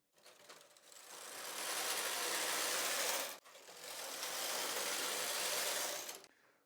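A Brother 260 knitting machine knits a Fair Isle sweater as the carriage makes two long swooshing, ratcheting passes across the needle bed, separated by a brief pause, close and fairly quiet.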